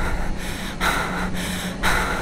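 Heavy, rhythmic breathing of a character in the horror game Slender, with about four long, loud breath cycles filling the clip and no talking.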